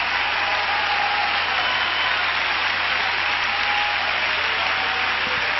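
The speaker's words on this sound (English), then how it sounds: "Oh, clap again, if you can, and lift your voice again." Sustained audience clapping at a 1991 church service, a dense, even wash of applause at constant loudness with a low steady hum underneath, no speech over it.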